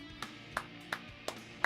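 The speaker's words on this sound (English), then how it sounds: "I'm clapping." A single person claps five times at an even, unhurried pace, each clap sharp and close, with nothing else heard.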